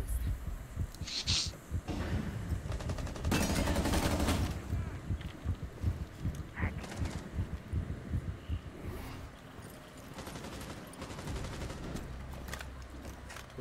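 Rapid bursts of automatic gunfire in a tactical shooter video game, loud bursts clustered early and then scattered shorter volleys, with a player talking in between.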